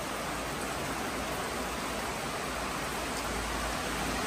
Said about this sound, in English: you see the water is increasing now, you know, it gets like, the rain gets like twice as bad.